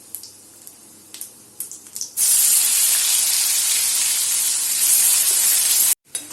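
Ground onion paste drops into hot oil in a pan and erupts into a loud, steady sizzle that lasts several seconds and then cuts off abruptly. A few light clicks come before it.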